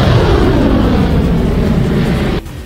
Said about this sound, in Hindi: वहां का आसमान लड़ाकू विमानों की गरज से गूंज उठा।